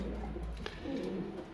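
Soft, low pigeon cooing rises and falls over a steady outdoor rumble, faint and somewhat distant, with no talking.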